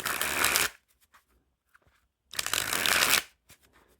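Two brisk bursts of riffle shuffling from a new deck of Gilded Coco Palms playing cards, stiff straight out of the box, separated by quiet pauses with a few soft handling clicks.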